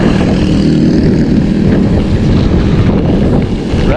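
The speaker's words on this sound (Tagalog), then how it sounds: "sarap na hangin" Steady, loud wind buffeting the microphone throughout during a motorbike ride past rice fields near Ormoc, Leyte, with a low rumbling roar underneath like a vehicle moving at speed.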